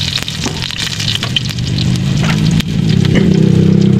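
Unpeeled garlic cloves fry in hot oil in a pan, giving a loud, close, continuous sizzle that thickens toward the end, with scattered sharp crackles and pops.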